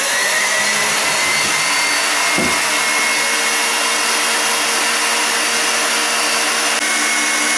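An electric mixer whips egg whites for snow eggs, running as a loud, steady whirring drone that fills the whole stretch, with no speech over it.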